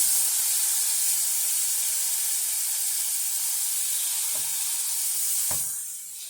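Salmon fries in melted butter in a pan, giving a loud, steady sizzle and hiss that continues throughout, with a couple of soft clinks near the end as the sizzle briefly drops.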